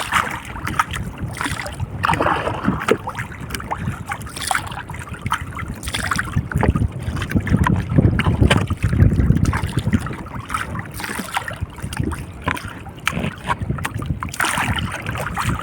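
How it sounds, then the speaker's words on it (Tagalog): Strong wind roars and buffets the microphone continuously, with water splashing and sloshing around a small boat throughout. "Nakakatakot na, masyadong mahangin."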